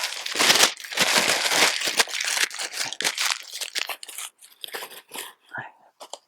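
Paper is crumpled into wads by hand to fuel a J-style rocket stove, a dense run of close crackling and crinkling that thins into sparser, separate crunches toward the end.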